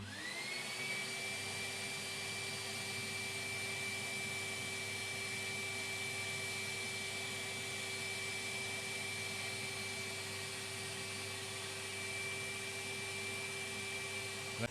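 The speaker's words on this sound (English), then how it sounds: "Turn it on, and here comes the vacuum." A vacuum motor on a vinyl record cleaning machine whirs up and holds a steady, loud, even drone with a fixed high whine, running alone for the whole stretch.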